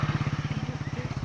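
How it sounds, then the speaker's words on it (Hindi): A motorcycle engine on a road gives a brief, fairly faint run of rapid, evenly spaced chugging pulses. "देखिए इधर मोटरसाइकिल आ रहा है,"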